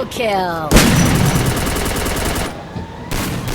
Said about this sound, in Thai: ปาระเบิดครับ